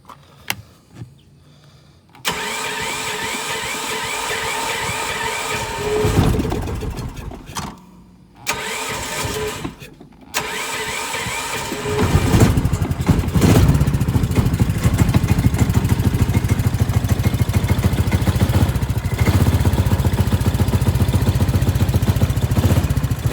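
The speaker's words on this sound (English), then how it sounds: "Let's try to crank it." A 420cc Predator Harbor Freight engine on a pit cart cranks in short bursts with pauses, then catches and settles into a loud, steady, close-up running rumble with a slightly lumpy idle.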